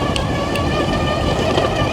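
Zonveer ZX3 electric dirt bike accelerating at full throttle: a steady whining motor hum with wind and tyre rush, constant and fairly loud throughout.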